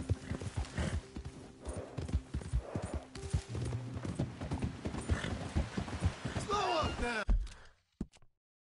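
Horse hooves clip-clop steadily in Red Dead Redemption 2, a close rhythmic pounding with scattered impacts and a short whinny near the end before cutting to silence, while game voices talk over it.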